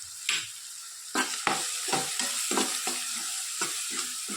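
Garam masala and turmeric roast in a pan for gravy, a spoon scraping and stirring in repeated close strokes over a soft steady sizzle, with no one talking.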